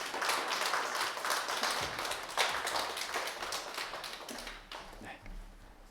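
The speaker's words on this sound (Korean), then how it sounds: "큰 박수로 환영했으면 좋겠습니다" A church seminar audience welcomes the pastor with a round of clapping, many hands in a dense patter that fades gradually, with a voice talking over the dying applause.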